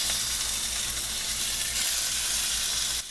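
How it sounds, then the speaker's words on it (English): Pork tenderloin searing in hot oil gives a loud, continuous close-up sizzle and hiss with no talking, cutting off abruptly at the end. "And the other 2 pieces of pork tenderloin get seared the exact same way."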